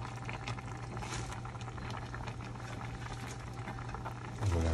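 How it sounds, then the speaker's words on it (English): Water boils steadily in a pot of ham hocks and collard greens, a dense continuous bubbling and popping with a low hum underneath, close and fairly loud. "I'm gonna let this boil"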